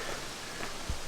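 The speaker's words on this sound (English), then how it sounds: "I'll need to come back here again when it's no absolutely pouring with rain" Heavy, steady rain pours through a Scottish forest, a dense even hiss with a few louder drops and patters close by, no voices.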